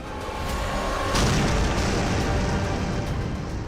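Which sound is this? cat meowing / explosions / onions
explosions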